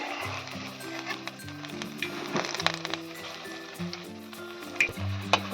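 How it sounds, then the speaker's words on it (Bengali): Pumpkin koftas fry in hot oil with a steady, close bubbling sizzle, joined by occasional clinks and scrapes as they are turned. "এইভাবে লাল করে ভেজে নিতে হবে"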